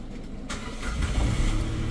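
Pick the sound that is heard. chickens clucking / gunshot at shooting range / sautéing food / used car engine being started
used car engine being started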